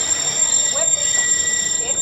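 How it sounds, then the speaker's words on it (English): The Magic Kingdom railroad train rolls into its station, a steady rumble with faint wheel squeals and a high tonal whine, while people talk over it. "please remain on board and seated until the train comes to a full and complete stop"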